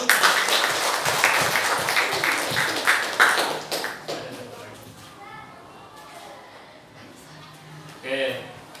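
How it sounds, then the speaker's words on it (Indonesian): Students clap together in a classroom during a civics lesson, a lively burst of applause lasting about four seconds before it dies away to quiet murmuring, and then a voice speaks up. "Kasih tepuk tangan dulu."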